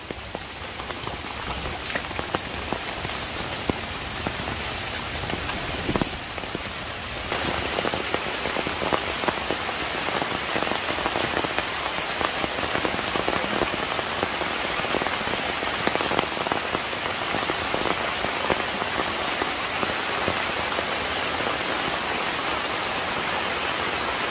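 Steady monsoon rain patters on surfaces at night, a dense continuous hiss with scattered drops, no voices, even and moderately loud throughout.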